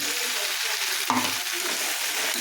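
Onion and tomato sautéing in a pan give a steady close sizzle throughout, with a short stir or scrape of the spoon breaking in partway through.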